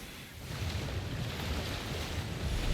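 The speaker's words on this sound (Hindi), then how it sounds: "जंग लगी बोट का इंजन" A rusty boat engine in the video game GTA V gives a steady, loud low rumble, blended with washing water and wind noise that swells slightly toward the end.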